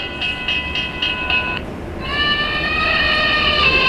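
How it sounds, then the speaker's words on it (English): An electronic model train crossing bell gives a rapid run of bright, evenly spaced dings, then changes to a sustained ringing tone, loud and close with no talking. "Crossing bell."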